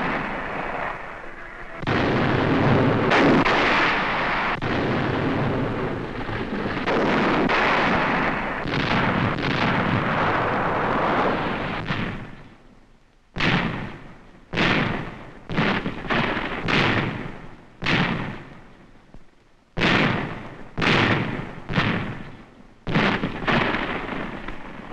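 Canadian artillery in a WWII newsreel, first as a long continuous roar of heavy fire, then as a string of separate loud booming blasts in quick, irregular succession, close and alone without speech.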